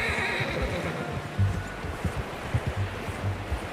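A horse whinnies in the video game Red Dead Redemption 2, followed by low snorts and soft hoof clip-clops close by, with faint outdoor ambience and no speech.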